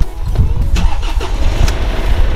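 A Mercedes car engine cranks and starts after an ignition lock repair, with short bursts of starter cranking over a steady low rumble as the engine catches, recorded up close with no talk.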